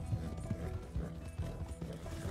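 Horse hooves clip-clop at a steady gallop-like rhythm in the Red Dead Redemption video game, repeated thuds close and moderately loud, with a brief whinny-like tone mixed into the game's ambient sound.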